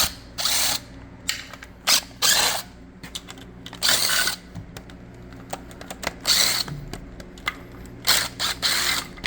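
Pneumatic impact gun rattling off transmission bolts on a muscle car, several loud bursts of about a second each separated by short pauses, with metallic clanks in the shop between them.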